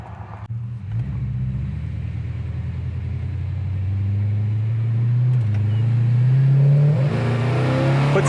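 A 1970 Dodge Coronet Super Bee accelerates hard through the gears, its engine roaring steadily louder and rising in pitch, dipping briefly at a shift before climbing again, heard close from inside the car with no talk.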